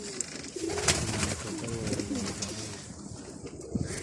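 Pigeons cooing close by, several birds with soft repeated rolling coos layered over one another and continuing throughout, with no talk.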